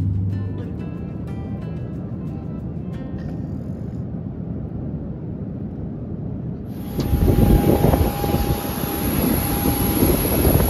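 Steady broadband roar of an airplane cabin in flight from Miami to Barbados, continuous engine and air noise that swells louder partway through, with a faint tonal hum riding on top.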